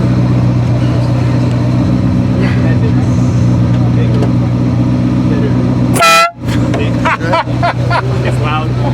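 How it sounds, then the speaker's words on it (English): A loud, blaring Ferrari F40 air horn blast cuts sharply through steady engine rumble and crowd chatter, followed by quieter scattered noise. "it's the old school Ferrari horn, not like the new ones that sound like a normal car. This is the old air horn"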